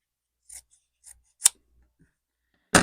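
Scissors snipping through folded paper petals, four crisp separate cuts spaced out with quiet between them, close and clear with no talking.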